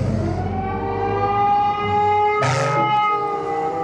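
A toy fire truck siren wails steadily and loudly, its electronic tone holding throughout, with a brief burst of noise partway through.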